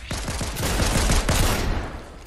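Rapid gunfire crackles in a Fortnite match, a dense burst of repeated shots in quick succession, loud and close over game ambience.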